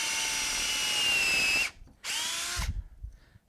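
A power drill whirs at high speed for about a second and a half driving a screw, stops briefly, then spins again in a second short burst, close and clear.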